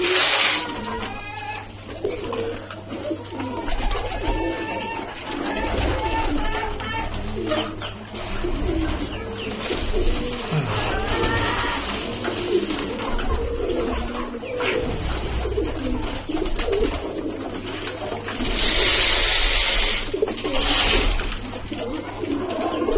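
A flock of pigeons coo continuously in low, overlapping murmurs, close by, with a constant hum and background noise underneath.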